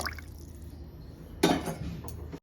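Warm water poured from a glass into a pot of Afghani biryani, a short splashing gush that starts suddenly and trails off over a quiet kitchen background, close by.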